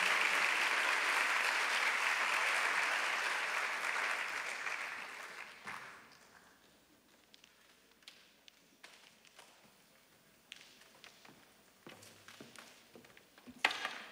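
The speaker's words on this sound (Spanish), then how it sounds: "Un aplauso para Jonathan también." Applause from a concert theatre audience starts loud and dense, then fades over several seconds into scattered claps and small taps in a quieter room.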